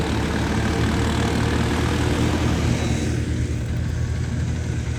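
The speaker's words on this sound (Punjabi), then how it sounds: "ਦੂਜਾ ਟਰੈਕਟਰ ਵੀ ਆ ਗਿਆ" A heavy diesel tractor engine chugs steadily nearby during wheat harvesting, a loud, low, continuous rumble with no one speaking.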